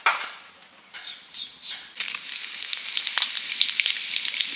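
Mustard oil sizzles in a kadai, a soft hiss that turns into a loud, crackling fry about halfway through, with dense popping spatters. Nobody speaks.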